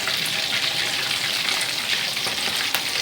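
Masala chicken pieces deep-frying in hot oil give a steady, close sizzle with crackling pops throughout, and no voices are heard.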